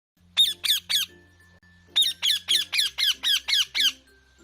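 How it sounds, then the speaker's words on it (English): A parrot squawks loudly and harshly, three quick calls, a short pause, then a rapid run of about eight more in an even rhythm, close and alone. "P for parrot."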